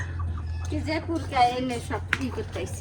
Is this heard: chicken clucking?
yes